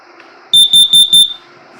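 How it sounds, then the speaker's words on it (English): A propane LP detector in a 2017 Coachmen Catalina RV sounding its alarm during a test: four sharp, loud, high-pitched beeps in quick even succession, then stopping. "This guy senses propane in the coach. It will go off."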